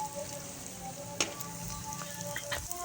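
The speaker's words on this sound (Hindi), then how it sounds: "घी में देखें कैसे अच्छे तरीके से फूल रहे हैं और फूल के घी के ऊपर आ जाते हैं" Golgappa puris deep-frying and puffing up in hot ghee, giving a steady dense sizzle with a few sharper pops and crackles, close and continuous without talk.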